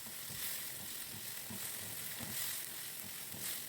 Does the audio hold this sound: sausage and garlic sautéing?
yes